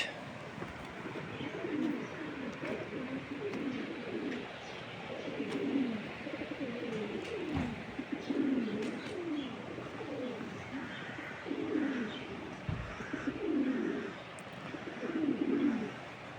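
Pigeons cooing repeatedly in low, throaty phrases, close by and fairly steady, with faint background noise.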